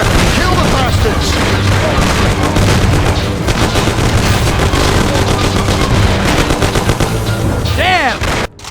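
A shootout in the video game Mafia, dense and loud sustained gunfire with booming shots and voices shouting over the battle, ending in a brief dropout near the close.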